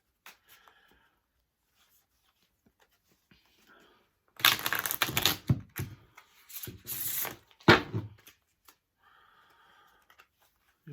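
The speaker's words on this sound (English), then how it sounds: "Just going to give these a shuffle" A deck of tarot cards is shuffled by hand in several close, crisp bursts of riffling and slapping over a few seconds, with near-silent pauses before and after.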